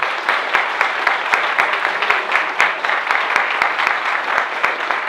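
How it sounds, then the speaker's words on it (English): Sustained audience applause after a tribute to a composer, a dense steady wash of clapping with sharp individual claps standing out, lasting throughout with no talk over it. "So give him a round of applause."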